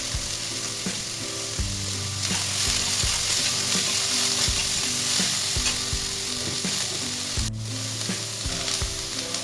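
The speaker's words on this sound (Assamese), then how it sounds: "অলপ কেঁচা জলকীয়া দিছোঁ বেছি ভাজিব নালাগে হাফ ফ্ৰাই হ'লে হৈ যাব" Green chillies sizzle and fry steadily in hot oil in a pan while cooking quinoa rice pulao, with a continuous crackling hiss, occasional stirring scrapes and clinks of a utensil, close and loud throughout.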